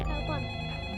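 A telephone rings in a children's game as a bright electronic ringtone, with layered chiming tones that hold steadily through the full second, close and loud.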